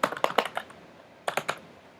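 Keys clicking as a terminal command is typed on a MacBook keyboard, two quick bursts of soft, close taps separated by a short pause, with no talk.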